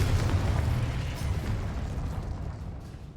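Explosive Confringo spell blast from the Hogwarts Legacy video game, a loud sustained rumbling boom with heavy low-end roar that slowly decays over a few seconds.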